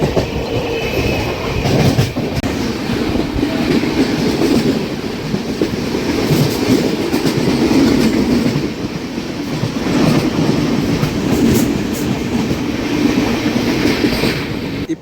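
A train passes close by on a double electric line near KR Puram, a steady loud rumble with rattling wheels and clickety-clack throughout, heard from aboard the SMVT Bengaluru to Tirupati intercity express.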